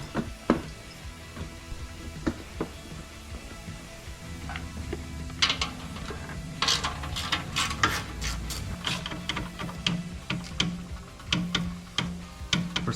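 Ratchet wrench backing out the Allen bolts of a motorcycle floorboard, quiet close clicking in quick irregular runs of pawl ticks with short pauses.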